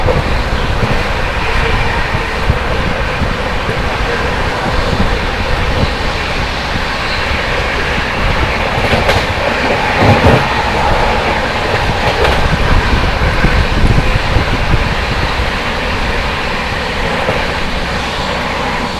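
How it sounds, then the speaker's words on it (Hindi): The New Delhi–Lucknow Swarna Shatabdi Express passing close by on an Indian railway line, a loud, steady roar of rushing wheels and rumbling coaches that fills the whole stretch without letup. "सामने से आ रही है न्यू दिल्ली लखनऊ स्वर्ण शताब्दी एक्सप्रेस"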